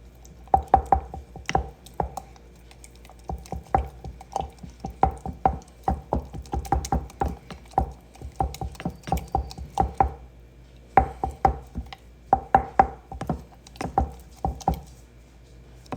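Sourdough starter of einkorn and King Arthur flour with warm water being stirred in a jar, a steady run of wet, squishy scrapes and taps in quick rhythmic bursts, close and fairly loud with no talking.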